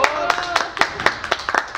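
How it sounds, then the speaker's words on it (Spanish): A studio audience claps in a sparse, uneven patter of distinct hand claps, fairly close, with a voice briefly over the start. "Un aplauso."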